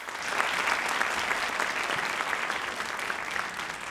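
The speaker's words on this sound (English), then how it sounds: "Please give them all a round of applause." At a Dean's List recognition ceremony, an audience gives sustained, even applause for the event staff, a dense continuous patter of many hands clapping throughout.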